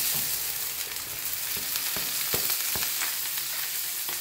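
Garlic sautés in oil in a pan, browning toward golden, giving a soft continuous sizzle with a few faint scrapes and taps of a utensil; no voices.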